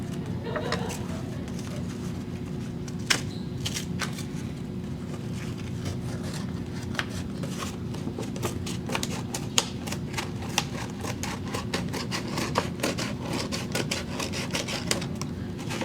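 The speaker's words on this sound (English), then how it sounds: "I'm going to cut a big circle to get rid of all that smooth part on the inside" Scissors cut a large circle out of a paper plate, making light, irregular snips and paper rustles over a steady low background hum throughout.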